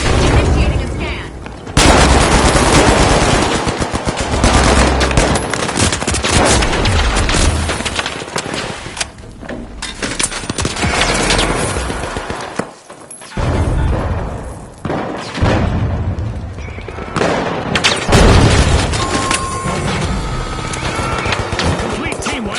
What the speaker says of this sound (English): Tossing a frag! Frag grenade out!